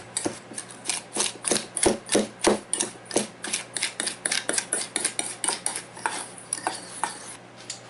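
A whisk or spoon clinks rhythmically against a bowl, mixing cheesecake ingredients with sugar and salt in steady, fast strokes, close and clear without talk.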